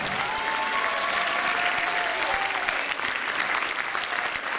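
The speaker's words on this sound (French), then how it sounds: "je vais vous demander vos plus beaux applaudissements" Sustained applause from an audience for a show's performers, a steady wash of many hands clapping at moderate distance with no break.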